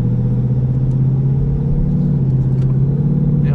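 A 2019 Ford Mustang GT Premium under throttle, its engine giving a steady, loud, low droning rumble heard from inside the car, with no change in pitch across the short stretch.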